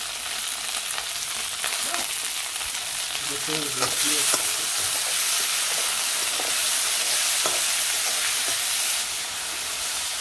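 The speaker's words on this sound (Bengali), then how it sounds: "আর তেল তো আগেই দিয়ে দিছি। আর আলু আর করলা একসাথে ভাজি করবো" Potato and bitter gourd fry together in hot oil, giving a steady, loud, close sizzle that runs without a break, with a few faint scrapes and knocks mixed in.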